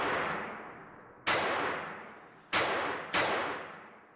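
An Armi Galesi Model 503-B .22 Long pistol with a stretched firing pin spring fires three sharp, close shots, each with a decaying echo, the last two in quick succession.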